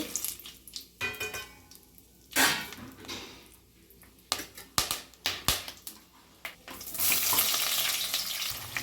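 Spices crackle and sizzle in hot ghee in a pan, with sharp irregular pops and bursts of frying and stirring scrapes, building to a denser, steady sizzle at the end.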